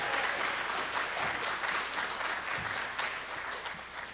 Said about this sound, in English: Let's just have a round of applause for just being in this room right now